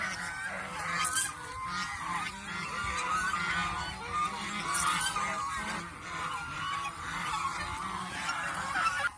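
A flock of domestic geese honk repeatedly in loud, overlapping calls, close by, with a busy farmyard bustle underneath.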